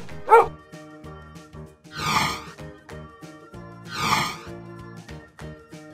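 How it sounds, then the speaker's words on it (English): A dog gives one short, sharp bark near the start, set against steady background music with two swelling whooshes later. "dog,"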